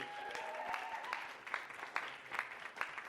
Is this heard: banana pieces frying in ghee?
no